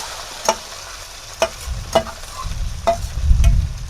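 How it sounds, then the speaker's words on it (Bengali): Taro (mankochu) pieces fry in hot oil with a low steady sizzle, broken by a few sharp clinks of a spatula against the pan. "তেলটা গরম হয়ে গেছে, এবারে আমি মানকচুগুলো ভেজে নেব"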